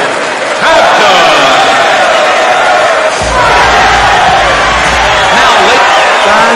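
Arena crowd cheering and whooping in a PDC World Championship darts video game at the World Match Play, a loud continuous roar with shouts rising throughout under a commentator's voice.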